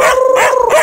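A dog howls in one drawn-out, wavering cry with a brief bark-like break near the end, loud and close, with no other sounds.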